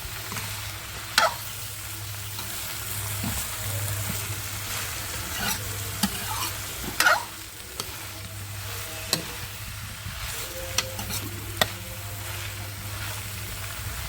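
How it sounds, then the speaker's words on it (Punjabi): Mixed vegetables fry in a pan with a steady sizzle while a utensil stirs them, scraping and clinking at irregular moments, close and moderately loud. "ਤੇ ਹੁਣ ਇਹਨੂੰ ਆਪਾਂ 2-3 ਮਿੰਟ ਅੱਗੇ ਪਕਾਵਾਂਗੇ"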